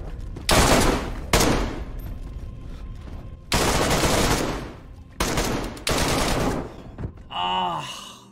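Several loud gunshots ring out in the survival game DayZ, sharp blasts spaced irregularly with echoing tails, followed by a brief shouted voice at the end.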